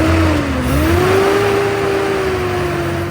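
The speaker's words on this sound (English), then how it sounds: "Let's rev it up a little bit and see if our generator works." An Austin-Healey Sprite from a barn with its newly installed engine revs up, a loud, steady engine drone rising slightly in pitch and holding for a few seconds, with no talk.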